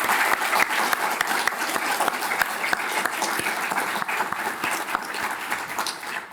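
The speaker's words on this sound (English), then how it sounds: "So let's give a round of applause for everybody who's made this happen today." An audience of faculty, staff and students claps steadily at an announcement event, with a crisp, sustained round of applause and distinct individual claps cutting through.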